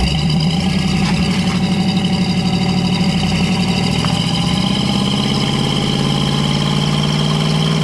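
A 1968 Chevrolet Camaro engine idles after warming up: a loud, close, steady rumble with an even pulsing beat throughout.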